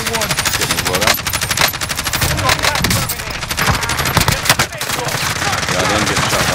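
Rapid automatic gunfire in a battle royale video game, dense bursts of loud shots rattling almost continuously, with a voice talking underneath at times.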